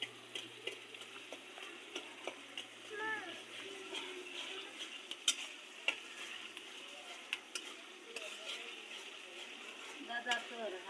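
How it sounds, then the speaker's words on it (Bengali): Spice paste fries in a pan over a wood fire, a faint low sizzle with light stirring taps and scrapes spread throughout, quiet and distant-sounding, with a few soft background sounds. "মশলাটা একটু কষাই নিই।"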